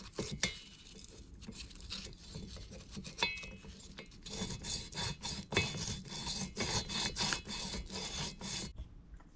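Emery cloth sanding Stihl 025 chainsaw parts, steady close rasping strokes that turn busier and louder halfway through, with a few sharp scrapes and no talking.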